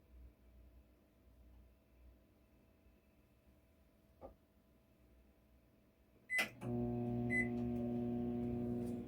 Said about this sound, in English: we're going to heat our stuff up in the microwave